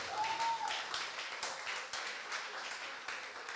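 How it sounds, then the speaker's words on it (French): A church congregation at a Sunday service applauds, with dense, sustained clapping from many hands and a brief sung or voiced note at the start, fairly distant and reverberant. "On l'applaudit encore bien fort."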